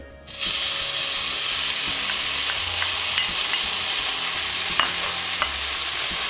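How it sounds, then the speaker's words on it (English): Chopped vegetables hit hot olive oil in a deep pan and sizzle steadily and loudly, a dense continuous frying hiss with occasional small pops and crackles, no voices. "Add your pulsed vegetables in."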